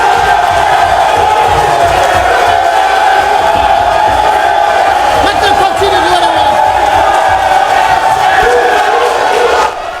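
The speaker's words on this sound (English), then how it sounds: "After the applauses and cheering from the galleries inside the House subsided" Galleries inside a parliament chamber break into loud, sustained cheering and applause, a dense crowd roar filling the whole stretch, with a voice speaking over it near the end.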